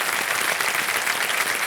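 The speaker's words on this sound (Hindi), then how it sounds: "तालियां बज जाए इनके लिए।" Studio audience at a quiz show clapping for a contestant, dense, steady applause filling the whole brief moment, loud and close, with no talk over it.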